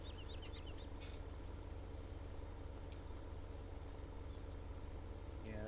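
Farming Simulator 17 tractor engine idling at a steady low, even chug, moderately loud and continuous, with a few faint bird chirps early on.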